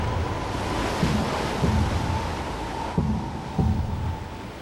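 Ocean waves wash continuously in a broad roar with wind noise, faint rhythmic thumps underneath, steady and fairly loud with no talking.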